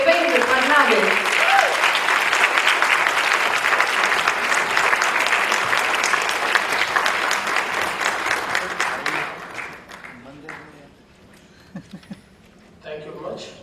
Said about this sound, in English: a huge round of applause to Devendra Fadnavis